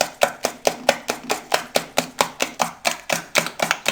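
Sugar and eggs beaten together by hand for a chocolate cake, producing a steady, rapid rhythm of sharp strokes, about four a second, close up and alone.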